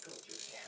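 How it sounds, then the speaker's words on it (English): Ratchet wrench clicking while spark plugs are changed on a 2012 Ford Focus SE, a quick run of close, fairly quiet ratcheting with no talk over it. "I'm just gonna grab my ratchet again"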